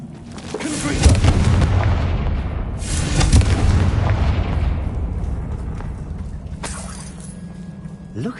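Bombarda spell explosions in the Hogwarts Legacy video game, two heavy booming blasts a couple of seconds apart with crumbling debris and rumble trailing off, loud and close.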